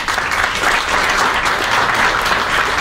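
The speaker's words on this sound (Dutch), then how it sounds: "een applaus voor Roger Cameron" Audience applause welcoming a speaker onto the stage at a live talk event, a loud, dense, continuous clapping from a crowd that holds steady throughout.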